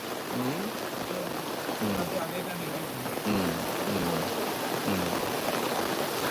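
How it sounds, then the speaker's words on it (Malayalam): Heavy rain with thunder hisses steadily throughout during flooding, with low thunder rumbles underneath and faint voice-like tones drifting in and out. "നല്ല ഇടിയോട് കൂടിയുള്ള മഴയും പെയ്തുകൊണ്ടിരിക്കുന്നുണ്ട്"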